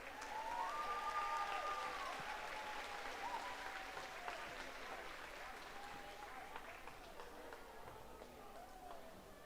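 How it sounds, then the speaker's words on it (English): An audience at a livestock show applauds for an honoree, steady clapping that sounds somewhat distant and slowly fades, with a faint voice and a brief tonal sound near the start. "Y'all give Mr. Fowden a huge round of applause"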